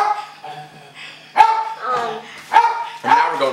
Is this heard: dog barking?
yes